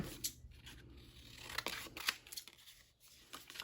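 Scissors trim a home-printed photo for a scrapbook junk journal, making a quick series of close, crisp snipping cuts with light paper rustle, and no one speaking.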